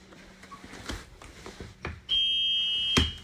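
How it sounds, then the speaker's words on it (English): A school bus emergency exit alarm on a Thomas Saf-T-Liner EFX sounds as a loud steady high-pitched electronic tone that starts partway through and holds to the end, after some faint handling clunks, with a sharp click near the close. "I've got 2 emergency exit hatches that will also alarm if opened"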